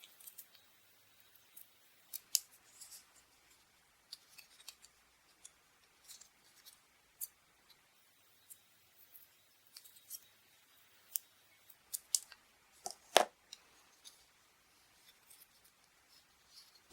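Scissors snip paper to round off corners for a paper heart, producing sparse, close, crisp cuts scattered irregularly across a quiet background, with one louder snip near the middle.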